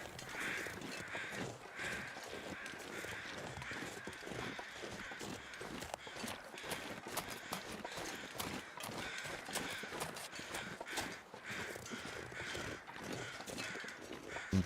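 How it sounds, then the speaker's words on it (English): Crows caw repeatedly in The Long Dark video game, a steady chorus of harsh calls at middle distance over a constant ambient wash and soft footsteps. "Bunch of birds circling corpses over there."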